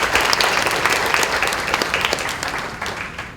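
A conference hall audience applauds a vice minister with steady, full applause that fades slightly toward the end.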